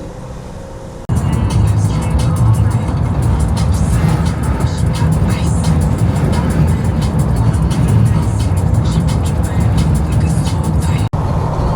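A newer car driving on an Australian highway on a long coastal road trip, a loud steady engine and road rumble heard from inside the cabin, with a brief dip at the start.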